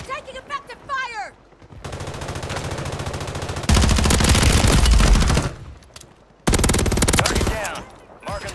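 Sustained automatic gunfire from Call of Duty Warzone 3 gameplay, loud and dense, in long bursts broken by brief pauses, with a short voice line before the shooting begins.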